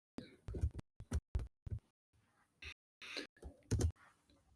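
Keys tapped on a computer keyboard in short, irregular bursts of close, crisp clicks with brief pauses between groups, no talking over them.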